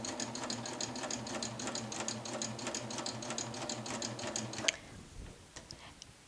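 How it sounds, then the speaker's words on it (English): A coverstitch machine sewing a circular hem in the round, a fast rapid-fire mechanical clatter running steadily for several seconds before stopping abruptly, followed by quieter handling sounds. "I'm just going to go ahead and start stitching, and it's just the way you do a regular cover hem"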